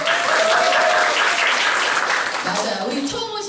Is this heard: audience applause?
yes